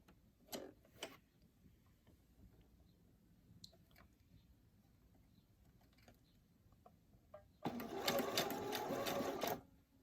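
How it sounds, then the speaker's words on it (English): A few quiet clicks and taps, then a sewing machine whirs into a fast, rapid stitching burst through ribbon for a couple of seconds before stopping. "I'm gonna sew them together to make it 14 yards. I'm just gonna follow the line guide on my sewing machine."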